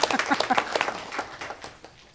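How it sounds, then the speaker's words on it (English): A few people in a city council meeting room clap for a presenter, a brief patter of hand claps that thins out and fades within two seconds. "I feel like I need to clap."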